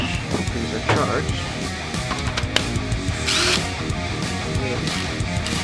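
Cordless power drill running in short bursts while working on a Suzuki DRZ400 motorcycle, whirring close by amid clatter, with voices talking over it.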